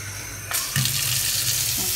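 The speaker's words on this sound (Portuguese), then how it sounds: "E agora eu vou fazer o teste da torneira pra vocês" Single-lever kitchen faucet, newly installed, gushing water at strong pressure into a sink, a steady loud hiss that swells as the stream opens, with no talking.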